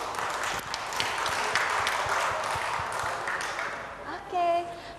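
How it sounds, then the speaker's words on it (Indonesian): An audience at the Youth Impact variety show applauds a guest from the Anak Wayang Indonesia community, a broad, steady wash of clapping held at a moderate level, with a voice briefly rising near the end. "beri tepuk tangan, inilah dia Mas Vicky dari komunitas Anak Wayang Indonesia"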